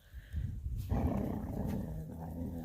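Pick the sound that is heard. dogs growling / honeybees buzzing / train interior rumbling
dogs growling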